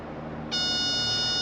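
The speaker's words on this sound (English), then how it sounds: "so now our beep is back" A Yamaha 200 hp four-stroke outboard motor's warning alarm, a steady high electronic tone, switches on midway and holds without a break while the motor is in neutral, sounding over a low mechanical hum.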